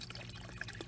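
Water pours and trickles steadily into a clean 35-gallon Brute trash can used as a bucket, a soft, continuous splashing fill heard close and fairly quiet.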